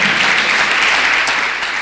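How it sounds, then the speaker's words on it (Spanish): Sustained applause from a worshipping church congregation at a Spanish-language service: many hands clapping together in a thick, even roar that holds steady and eases off slightly near the end. "Dale fuerte, fuerte, fuerte ese aplauso al Señor"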